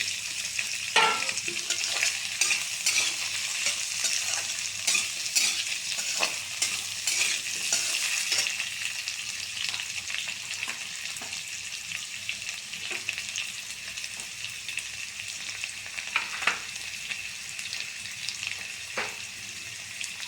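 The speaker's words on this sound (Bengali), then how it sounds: "আমার আলু এবং কোয়াশটা একটু ভাজা ভাজা হয়ে গেছে" Steady, crackling sizzle of potatoes and squash frying in a pan, with occasional scraping and stirring clatters, close and continuous throughout.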